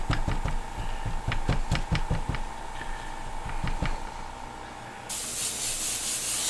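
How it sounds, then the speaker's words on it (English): A few knocks and a faint steady tone precede a spray can misting over lettering: a sudden, continuous close hiss that runs to the end. "I want to go through and just kind of give it a little mist here and there."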